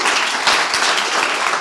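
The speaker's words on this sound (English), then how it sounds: "Let's give them a big round of applause." Audience applause at the close of a live startup office-hours show, a steady wash of many hands clapping with no pauses, fairly loud and filling the whole moment.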